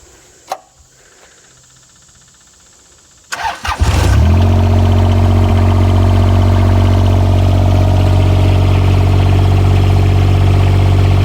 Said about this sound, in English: So we'll go ahead and fire up the mower.